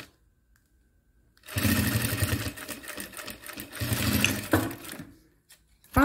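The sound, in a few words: sewing machine stitching the first seam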